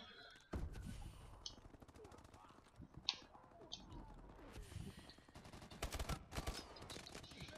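Gunfire in the video game Call of Duty: Advanced Warfare, faint rapid bursts and scattered shots crackling in quick rhythmic volleys, growing denser toward the end, with some voices mixed in.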